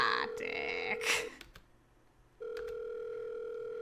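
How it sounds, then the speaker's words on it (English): Telephone line ringing in the video game The Letter: a steady ring tone holds for over a second, breaks off into near silence with a few clicks, then rings again loud and sustained to the end. "Silence follows while I wait for her to pick up, the ringing going far too long for my taste"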